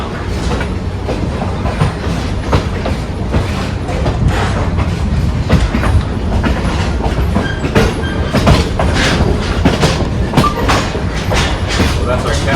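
A train runs on the Cass Scenic Railroad, with loud, close, continuous rumbling and regular clickety-clack wheel beats throughout.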